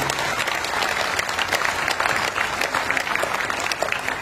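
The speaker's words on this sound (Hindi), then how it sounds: "एक बार हमारी इन दोनों वर्दियों के सम्मान में आपकी जोरदार तालियां होनी चाहिए।" Loud, steady applause from a live audience at a Hindi poetry gathering (kavi sammelan), dense clapping sustained throughout without pause.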